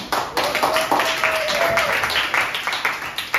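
Students in a classroom clap together, a burst of rhythmic hand claps that stays fairly loud before trailing off, with a voice briefly audible over it.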